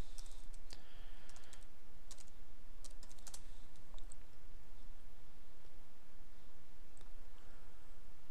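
A login username being typed on a computer keyboard: clusters of quick, light key clicks close by, then sparser single taps, in a quiet room with no talking.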